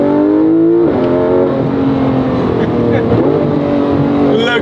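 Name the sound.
Porsche 911 GT3 RS driving on narrow road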